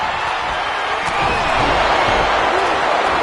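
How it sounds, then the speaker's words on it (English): Loud, dense arena crowd roaring and cheering continuously at a wrestling event in WWE 2K25, a steady wall of noise that swells slightly partway through. "Listen to this crowd."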